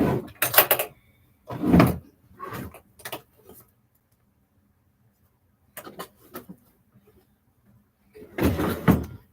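Clothes drawers in a bedroom are pulled and pushed, giving several sharp wooden knocks and sliding thuds in uneven clusters, close by, with quiet stretches between them.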